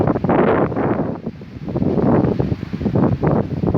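Wind blowing in Minecraft hardcore mode: loud, rushing gusts that surge and ebb continuously for a few seconds, with no talking over them.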